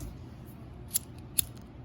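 Scissors snipping cord for the arm of a homemade rosary bracelet cross, two crisp close snips about half a second apart against a quiet background.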